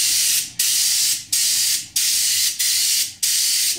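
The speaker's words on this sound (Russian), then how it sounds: "Здесь забиваем в цвет и чуть-чуть распыляем за счет расстояния пистолета" A paint spray gun applying Xeralic automotive paint in a blended fade, giving a steady loud hiss in five short bursts separated by brief pauses, close by with no talking.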